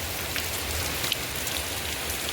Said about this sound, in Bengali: অমনি ঝমঝমিয়ে বৃষ্টি এসছে।